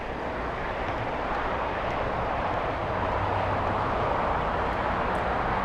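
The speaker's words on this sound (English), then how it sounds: "So this is the 777-200, United Airlines 1170" A United Airlines Boeing 777-200 jet at Los Angeles International Airport gives a steady, dense broadband roar throughout, even and continuous with no talk.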